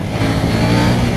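A KTM Duke 790 motorcycle engine revs hard in second gear at high rpm, a loud, close, steady roar lasting about a second with no speech.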